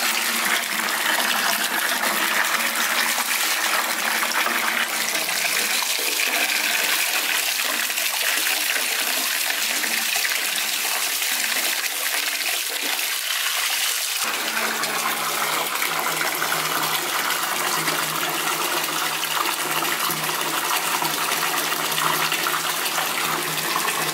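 A bathtub fills with water from the tap, a steady loud rushing gush that continues without pause, its tone shifting slightly partway through as the flow changes.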